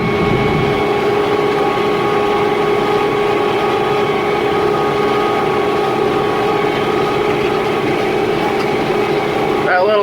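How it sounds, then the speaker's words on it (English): A tractor planting organic corn drones on steadily and loudly from up close, a constant engine hum with tonal whine that never lets up. "it'll just be the noise of the tractor."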